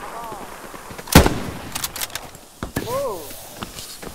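Artillery fire in the WWII shooter Hell Let Loose on the El Alamein map. One loud, close blast cracks out, with scattered sharper shots and thuds around it and voices talking briefly before and after.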